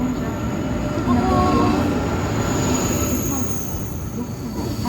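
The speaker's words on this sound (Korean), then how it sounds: "들어와 야, 기차 온다." A train rumbles steadily nearby with high metallic wheel squeals drifting over the low roar, the noise swelling slightly then easing as it pulls in.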